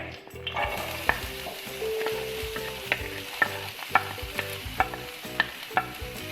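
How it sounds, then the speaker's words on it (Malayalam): Three medium sliced onions sautéing in hot oil for a bread pathiri Iftar snack, with a steady sizzle broken by sharp scraping clicks of a spatula stirring the pan, close and alone. "ഓയിൽ നന്നായിട്ട് ചൂടാകുമ്പോൾ ഞാനിപ്പോൾ എടുത്തിട്ടുള്ളത് 3 മീഡിയം സൈസുള്ള സവാളയാണ്"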